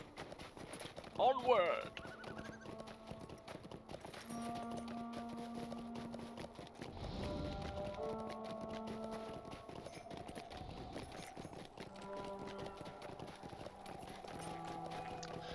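Horse hooves clip-clop steadily as a mount rides through Lord of the Rings Online, the pace continuing under in-game music tones while a voice calls out once near the start.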